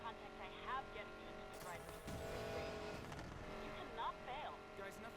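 Race cars roar past in the video game Need For Speed Payback, with loud engine drone and tire noise, a surge of rushing sound midway, and voices talking over the game audio.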